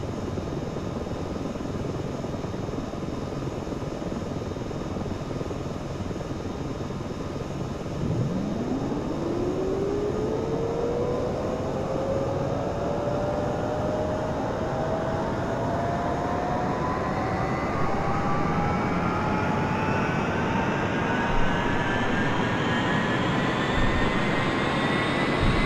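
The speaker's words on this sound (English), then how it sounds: "The helicopter will toss you around quite a bit as the rotor spins up." A UH-1 Huey helicopter turbine in the DCS flight simulator whines up from a low rumble, its pitch rising steadily as the rotor spins up, loud and continuous throughout.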